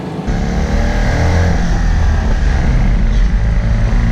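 A Citroën 2CV engine strains at full throttle, a loud, steady, buzzing drone that swells as the small car accelerates, with no talking over it.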